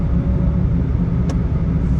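A car engine braking downhill in sport mode on Ortega Highway gives a steady, loud low rumble from inside the cabin, with one brief faint click near the end and no talking.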